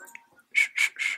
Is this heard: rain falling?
no